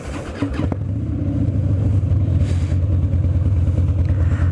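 Idling motorcycle engine fitted with an S&S Teardrop intake, a steady low rumbling throb close by that holds loud and even after a brief softer start, with no talk over it.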